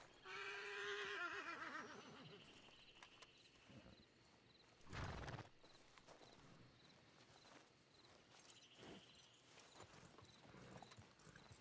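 A horse in Red Dead Redemption RP (RedM) gives a loud, wavering neigh up front, followed by a short burst and the clip-clop of hooves stepping at moderate distance.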